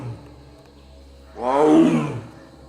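A tiger yawns with a rough, roar-like groan that swells suddenly, holds about a second, then fades, following a quiet lead-in with only faint background hum.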